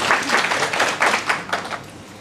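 A small group of people claps for two models at a skincare training session, a short close burst of uneven claps in loose rhythm that thins out after about two seconds.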